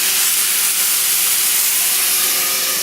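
Sausage sizzles in a lidded pan, giving a steady, dense hiss that stays even and close throughout.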